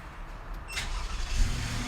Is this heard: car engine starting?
yes